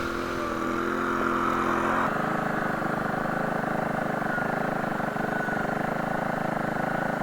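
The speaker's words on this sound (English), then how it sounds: "That is the one thing with the 2-wheel drive tractor. A lot of wheel spin." A two-wheel-drive Legacy XL tractor engine runs loud and steady while its wheels spin for grip during trail clearing on a remote property, the engine note shifting slightly after the first couple of seconds.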